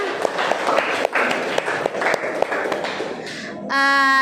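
Classroom applause from students, a fairly close burst of clapping with distinct sharp hand strikes, breaking off near the end as a tonal voice or sound takes over.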